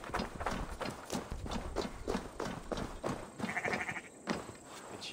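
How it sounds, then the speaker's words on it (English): Sheep in Assassin's Creed Valhalla bleat in repeated bursts over a busy game soundscape with rhythmic hoof-like clopping, moderately loud and close. "There you go, good sheep."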